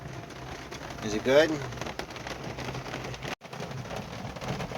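Rain falling on a campsite at a flooded state park, a steady broadband patter throughout, with a brief voice speaking over it partway through.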